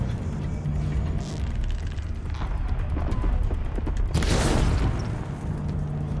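A shot at a machine's canister in Horizon Zero Dawn lands as a loud, rough burst with a crackling blast that swells and fades over a couple of seconds, set against steady game rumble and ambience.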